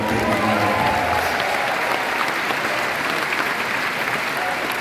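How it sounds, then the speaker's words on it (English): A concert audience applauding for a stylists' vocal group show, dense sustained clapping filling the room at close range, steady and loud throughout with a faint crowd murmur underneath. "Give him another big round of applause."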